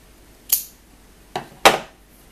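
Scissors snipping off leftover yarn tails from a small crocheted mouse, three short crisp snips close by, the last the strongest, in quiet.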